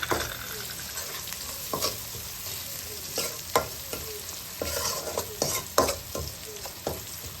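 Chopped garlic frying in a pan for fish curry, a constant hiss of hot oil broken by frequent sharp spatula clicks and scrapes, close up and busy.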